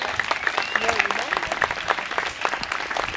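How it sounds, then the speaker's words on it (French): Audience applause at a magic show, steady clapping from a crowd running throughout with cheerful voices calling out over it. "on les applaudit!"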